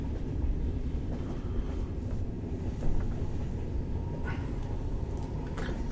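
A steam train runs steadily, with a low, continuous rumble of wheels and engine and occasional faint higher clanks over the top, with no voices.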